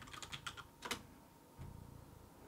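Short burst of typing on a computer keyboard, a quick run of soft key clicks followed by a pause and a second brief flurry, close but quiet.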